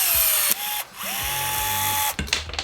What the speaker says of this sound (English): let's give it a test to see if I can pop a rivet